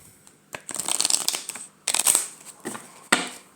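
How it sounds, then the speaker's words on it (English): A deck of cards being split-shuffled, with three bursts of riffling flutter separated by short pauses, close and fairly quiet. "Just give it a bit of a split shuffle."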